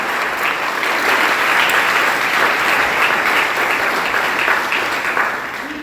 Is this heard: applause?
yes